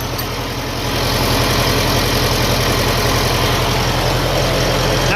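A 1957 Ferguson FE35 tractor running on TVO idles close by, a steady, loud rhythmic engine chug with constant mechanical vibration and no talk over it.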